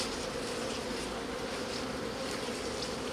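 Honey bees buzz continuously inside a nuc hive, a dense, even drone filling the whole stretch at close range, with no voices.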